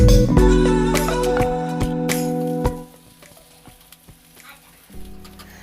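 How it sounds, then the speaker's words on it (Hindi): Elephant foot yam (suran) pieces frying in hot oil, a loud steady sizzle with stirring clatter that drops off sharply partway through, then quieter crackling with a renewed burst at the end. "पहले सूरन को एकदम गोल्डन ब्राउन फ्राई कर लेंगे बहुत अच्छे से।"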